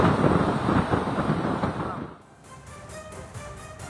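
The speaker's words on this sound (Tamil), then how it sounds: "கடல் சீற்றத்தோட பலத்த காற்று வீசுறத நம்ம பார்த்துட்டு இருக்கோம்." Strong cyclone wind roars at a Chennai beach with rough seas, heavy buffeting against the microphone for about two seconds, then easing to a lower rumble.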